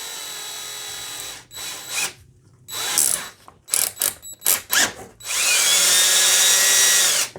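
A power drill spins a brass cartridge case in a Lee Precision case trimmer, whirring in several short bursts, stopping and restarting, before settling into a long, steady, loud run at the end.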